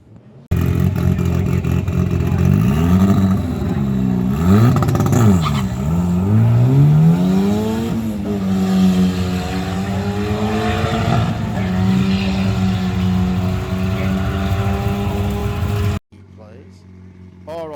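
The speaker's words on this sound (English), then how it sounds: "Battle of the small forced induction engines. Hyundai gets on the spray. I think it's a 4K Corolla turbo." Small forced-induction drag cars, a Hyundai Getz on nitrous and a 4K Corolla turbo, rev hard at the strip, engine notes rising and falling through gear changes and then holding a sustained high drone, with commentary running over them.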